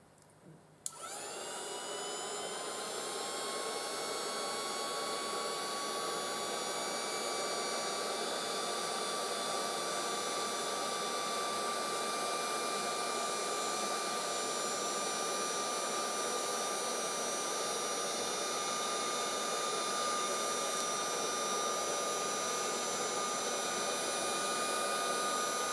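A hair dryer used as a heat tool for embossing switches on with a click and then blows in one continuous, loud, high-pitched whine with a steady airy roar, running without a break for over twenty seconds, with no talk over it.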